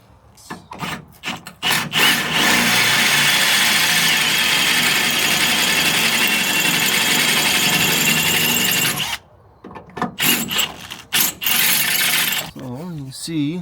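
A power drill bores into the head of a leaf spring bolt on a Toyota Tacoma, a loud steady grinding whine lasting about seven seconds before stopping, followed by scattered clanks and handling noises.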